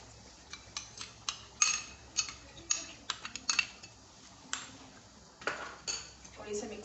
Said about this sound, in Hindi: अब हम इसमें ये दही ऐड कर देंगे।